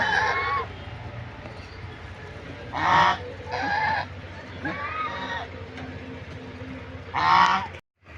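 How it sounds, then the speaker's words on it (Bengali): Hungry farmyard birds, geese and chickens, honk and cluck loudly in repeated bursts close by, calling for food over a steady low background. "খিদা লাগলে ডাকাডাকি শুরু হয়ে যায়।"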